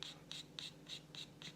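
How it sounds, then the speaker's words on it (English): Scissors scraping a stick of red chalk to loosen a little dust, six short rhythmic scratching strokes at a steady pace, close and fairly quiet, with no talking. "So I'm going to take my scissors and I'm going to scratch my chalk until"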